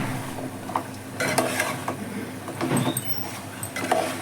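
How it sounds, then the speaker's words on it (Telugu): Drumstick curry with tomato being stirred in a pan, giving irregular scraping and clinking strokes over a soft background sizzle, close and moderately loud with no talking. "మంచిగా కలపాలి, కర్రీ అంతా కలిసేలాగా"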